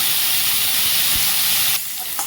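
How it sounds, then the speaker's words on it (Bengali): Steamed cauliflower fries in hot oil with a loud, steady, close sizzle and hiss that eases slightly toward the end, no voices present. "ফুলকপিগুলোকে 3 থেকে 4 মিনিটের জন্য ভেজে নিয়েছি।"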